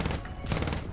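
Rapid machine-gun fire from a tail gunner position on an aircraft in War Thunder, a dense close burst of shots lasting the whole second with no speech.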